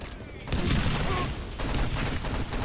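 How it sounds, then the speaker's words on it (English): Frag grenade explosion in a 6v6 competitive video game match: a loud, dense blast swelling mid-clip among crackling gunfire, with a commentator's voice running underneath. "He gets frag grenaded."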